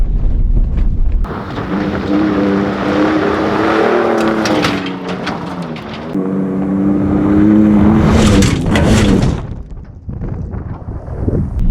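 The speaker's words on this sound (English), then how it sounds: "I took the jump at an angle, so you can see the truck kind of tilted to the side" A 2020 Ford Raptor pickup truck takes an off-road jump. Its engine roars loudly and climbs in pitch under heavy wind buffeting on the microphone, then briefly drops off before surging again.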